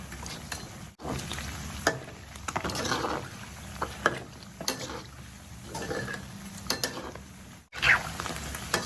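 Catfish frying in hot oil for crispy fried catfish, a quiet crackling sizzle with intermittent sharper pops and scraping stirs, fairly close and low in level.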